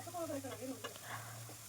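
Onions and four or five dried red chillies sautéing in a tempering for okra palya, giving a soft steady sizzle with faint stirring scrapes and a few short clicks, close and fairly quiet.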